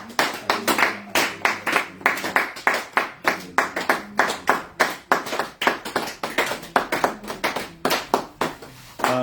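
A church congregation claps together in steady rhythmic unison to acclaim the King of Kings, a dense run of sharp, loud claps over several seconds with no talking.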